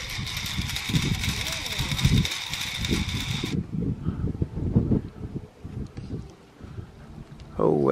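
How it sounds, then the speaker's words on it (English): Wind gusting across an open outdoor spot where a dragon kite is being flown, a rough rumbling buffet against the microphone that lasts throughout, with voices talking over it. "There's some wind."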